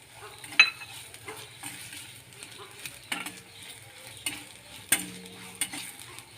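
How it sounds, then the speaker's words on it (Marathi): Tempering of ground green chili, dried coconut and a spoon of sesame sizzling and crackling in hot oil, with intermittent spoon stirring and scraping clinks in a pan, close and fairly quiet. "छान खमंग अशी ही फोडणी होऊ द्यायची आहे तेलामध्ये"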